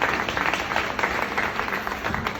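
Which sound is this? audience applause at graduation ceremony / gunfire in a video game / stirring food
audience applause at graduation ceremony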